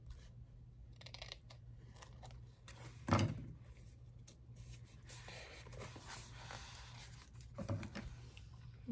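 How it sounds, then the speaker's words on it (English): Small craft scissors trim paper for a summer craft project. Faint, scattered snips and rustles sit at low volume over a steady room hum, with one louder crisp cut near the middle. "Gonna trim some of my paper. Let me get my smaller scissors here."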